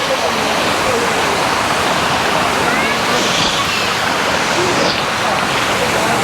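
At Thusharagiri waterfall, water pours strongly in a loud, dense, unbroken roar that fills the whole clip, with no voices over it.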